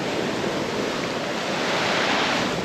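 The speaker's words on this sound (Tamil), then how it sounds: "கடல் அலையை ரசிச்சுட்டே இருக்கலாம் போல் அந்த அளவுக்கு இருக்குது இங்கே" Continuous roar of sea waves breaking at Muttom Beach in Kerala near Kovalam, a dense, even wash of surf heard close up without any voices.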